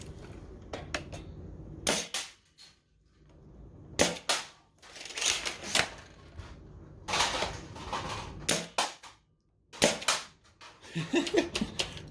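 Double Mega Caliburn foam dart blaster firing at cups, a series of sharp, loud bursts spaced a second or two apart, each a quick snapping pop with clatter, no talking in between.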